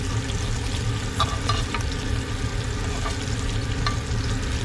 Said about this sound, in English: So now we're gonna take our ½ cup of cubed butter and add that to the pan